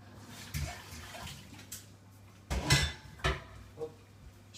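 Butter is rinsed under a running kitchen tap, faint water flow punctuated by a few clinks and knocks of dishes near the sink.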